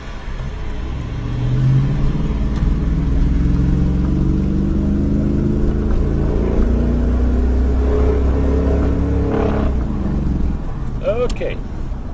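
A 4x4 truck running on water fuel, its engine starting and settling into a steady, loud rumble that holds throughout, with a faint squeak near the end and no clear talk over it.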